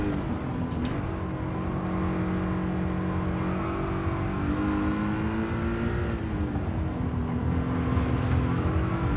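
A race car in Gran Turismo 7 accelerates out of a corner, its engine tone climbing steadily through the revs in a loud, continuous whine with a brief gear change midway.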